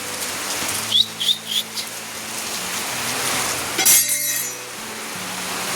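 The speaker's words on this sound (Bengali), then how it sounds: "বাইরে দেখো মুষলধারে বৃষ্টি চলে এসেছে" Heavy monsoon rain pours down on a village, a steady, dense hiss lasting throughout, with a few brief glassy clinks and chirps near the start and a sharper burst partway through.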